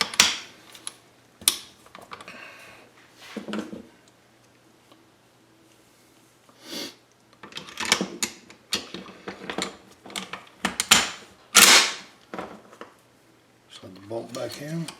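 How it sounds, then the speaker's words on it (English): Metal parts click, scrape and clack as the gas tube is fitted back onto an AK-47 rifle, intermittent close handling sounds with quiet gaps. "I'll put my gas tube back on."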